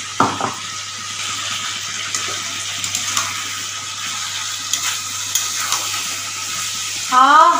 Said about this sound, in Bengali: নেড়ে ভালো করে একটু কষিয়ে নিলাম।